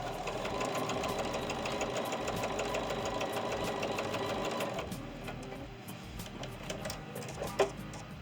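A sewing machine stitches back over a seam on a quilt medallion, its steady, close mechanical chatter running for about five seconds before easing into quieter handling sounds and a single soft knock.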